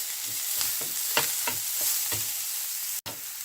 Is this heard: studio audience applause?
no